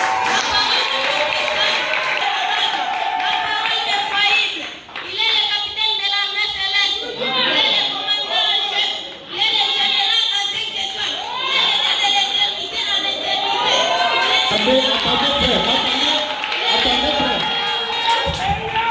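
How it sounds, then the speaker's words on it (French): A church congregation cheers and shouts encouragement to children, a loud sustained crowd roar with whoops and excited voices swelling and dipping briefly before rising again, with a speaker talking over it. "Acclamez quand même, non, encouragez les enfants"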